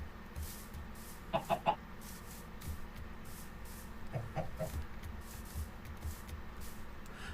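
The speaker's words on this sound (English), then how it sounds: "Interesting clucking sound." Minecraft chickens cluck in quick bursts of three or four notes, separated by pauses, over a faint steady hum, with no talking.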